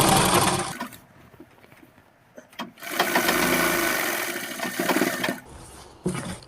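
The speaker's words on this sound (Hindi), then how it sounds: "बिठाने के बाद हम इसमें 1 पैर का मार्जिन लेकर सिलाई लगाएंगे।" A sewing machine stitching underwear fabric runs in two bursts of steady mechanical whirring, close and loud, separated by a quiet pause with a few clicks.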